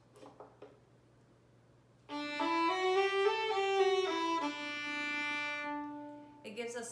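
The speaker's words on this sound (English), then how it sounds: "it gives a softer timbre, a softer sound, and a little bit more warm, fuzzy sound." Violin with an orchestra mute clipped on the bridge gives a softened, warmer tone as a bowed phrase of several notes rises and then holds. Brief speech comes just before and after it.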